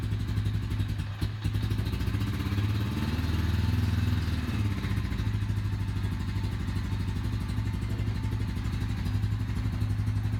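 A Honda engine runs nearby with a steady, close, rhythmic chugging idle, with a brief thump early on and a short rise in revs partway through.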